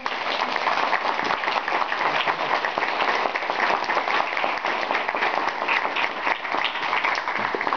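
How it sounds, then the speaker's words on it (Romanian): Audience applause at a karate training event in Cernica, continuous dense clapping from a crowd, steady and fairly loud for the whole stretch. "Da, vă aplaudim."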